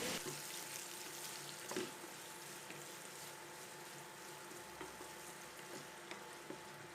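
Onion and tomato sautéing in a pan for a Kerala chickpea curry. A faint, steady frying hiss runs throughout, with a few soft stirring taps.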